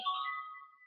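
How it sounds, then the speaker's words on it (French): Telephone ringing indoors during a Christmas card crafting session, a single bright electronic tone with steady harmonics that fades over under a second, heard alone without talk. "Oh, c'est le téléphone qui..."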